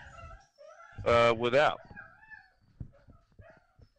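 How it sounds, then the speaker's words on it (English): Puppies whimpering and yipping in a short, loud burst of high whines, with people talking before and after. "Oh, you got upset puppies."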